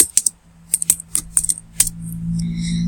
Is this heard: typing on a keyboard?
yes